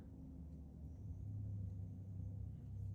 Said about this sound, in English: the loud ass trucks outside